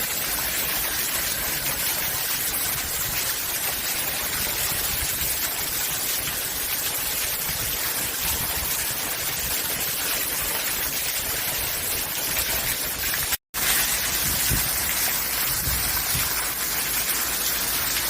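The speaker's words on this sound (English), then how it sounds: "It's a lot of rain, guys." Heavy rain pours outdoors in Jamaica, a dense, loud, unbroken roar of drops striking surfaces that is cut off by one brief dropout near the end before resuming.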